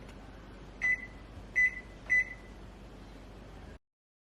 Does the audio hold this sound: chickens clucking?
no